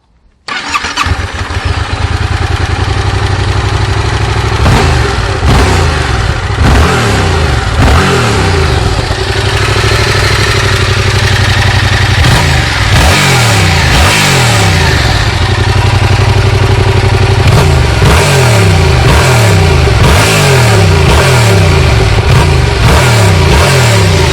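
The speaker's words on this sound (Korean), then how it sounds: "엔진음을 한번 감상해 보시겠습니다." A Yamaha MT-07 motorcycle with a lightweight two-cylinder engine starts up close and loud, then idles between repeated sharp throttle blips that rise and fall in pitch.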